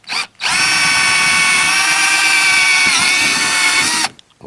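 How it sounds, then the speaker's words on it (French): A power drill with a 5 mm bit bores out a 4 mm rivet on the leg clamp of a Preston Monster feeder chair, giving a loud, steady high whine for about three and a half seconds that stops abruptly. "Donc ici je vais percer au diamètre 5 car je vais mettre des rivets diamètre 5."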